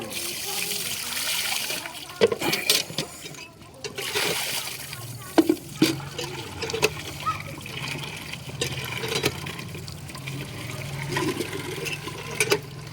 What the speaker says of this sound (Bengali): এবার গায়ে ঢেলে পুরো করে নাও পুরো পুরো গা ঢেলে